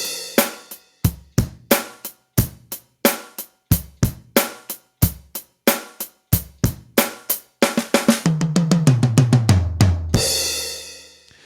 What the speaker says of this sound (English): It's the same drum beat that we're doing, but we're adding in a bigger fill at the end.